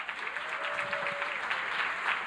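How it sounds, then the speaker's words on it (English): Gala audience at the Dance 4 Joy Transformation Gala claps for Danielle, a moderately loud, continuous patter of many hands with a faint voice briefly drifting underneath. "If you can clap loud enough for Danielle"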